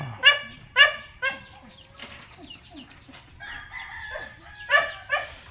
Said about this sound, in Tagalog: Ito yung tandang natin guys, oh. Malaki yung tandang natin pang breeding para sa ating mga native na chicken.